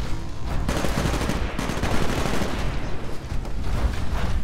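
Sustained automatic gunfire in Titanfall rattles loud and close in continuous rapid bursts with brief pauses, with no talk over it.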